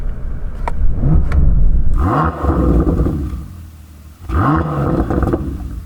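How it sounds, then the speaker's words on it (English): A Bentley Continental GT Speed's W12 engine in sports mode is revved hard twice, each burst rising sharply to a loud, close roar and then dropping back to a low idle rumble between. "So I'm going to rev up my W12."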